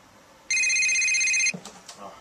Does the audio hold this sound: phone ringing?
yes